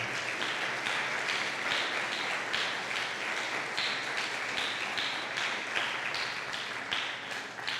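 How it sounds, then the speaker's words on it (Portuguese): A church congregation claps together in praise during a worship service, a steady sustained patter of many hands at moderate distance continuing evenly throughout. "Vamos aplaudir ao Senhor mais uma vez."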